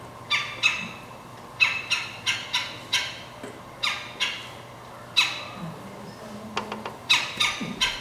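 Yellow-bellied woodpecker gives harsh, squawking calls like an angry chicken, repeated in spaced bursts outdoors, with a quicker run of softer notes toward the end.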